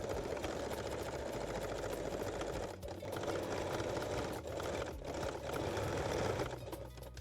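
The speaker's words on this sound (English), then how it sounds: "stitch it securely using a straight or zigzag stitch" A sewing machine runs continuously, stitching a Juliette garter belt, its steady mechanical whir and rapid needle chatter close and loud, with a few brief pauses in pace.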